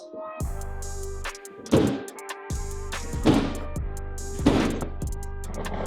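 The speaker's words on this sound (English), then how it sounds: "So I'm just gonna see if I can bang it a couple times." A TV mount on a sliding rail system in a garage is banged several times, giving three loud, separate metallic thunks at uneven intervals, with a steady hum and faint rattles between the hits.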